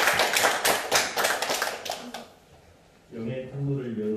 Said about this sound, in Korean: 박수로 하나님께 모아 드리겠습니다.